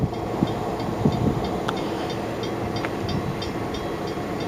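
An Eastern Idaho Railroad freight train of covered hoppers rolls past, a steady rumble with periodic light wheel clicks over rail joints, moderately close and without voices.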